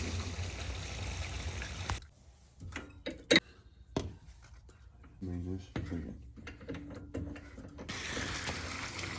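Nova chuck being tightened onto a wooden dovetail on a sweetgum bowl lid, giving a series of sharp ratcheting clicks and metallic clunks, close and fairly loud, framed by steady lathe or shop hum before and after.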